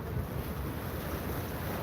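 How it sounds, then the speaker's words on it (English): Waves wash steadily on the Bosphorus strait in Istanbul near the Maiden Tower, a continuous dense rush of water mixed with heavy wind buffeting the microphone, with no talk over it. "listen to the wave"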